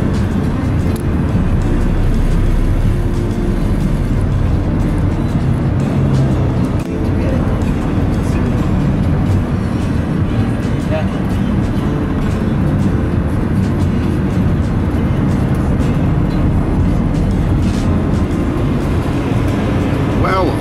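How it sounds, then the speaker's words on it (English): Steady engine and road rumble from inside a taxi driving toward a hotel in Subic Bay, continuous and fairly loud throughout, with someone talking over it. "I'm in Subic Bay in a taxi here, heading towards my hotel"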